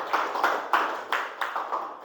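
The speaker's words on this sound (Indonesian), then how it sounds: "Tepuk tangan dulu untuk penampilan dari kelompok bintang jatuh." A small group of students clapping in a classroom after a group performance, a few sparse, slightly ragged claps spaced across a short stretch with no talk.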